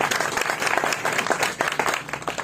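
Applause and clapping from a village crowd at a PML-N corner meeting in Sogyal, Union Council Phalra Syedan, dense and steady for the whole stretch.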